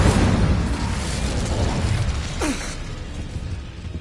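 Incendio fire spell cast in Hogwarts Legacy, a dense roaring whoosh of flame that fades gradually, with a short descending magical swish partway through.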